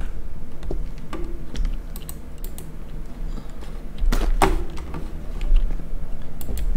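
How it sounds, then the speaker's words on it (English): Clacky keyboard typing from the video game Internet Cafe Simulator, heard as irregular clusters of close, crisp keystrokes with short pauses and a few louder taps. "this is a keyboard"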